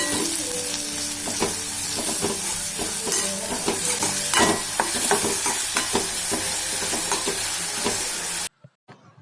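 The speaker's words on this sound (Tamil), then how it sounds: "ஒரு 5 நிமிஷம் வெங்காயம் இந்த மாதிரி நல்லா வதக்கி எடுத்துக்கோங்க" Onions with a little salt sauté in a pan, a steady close sizzle with frequent scraping stirs for about eight seconds before cutting to near silence.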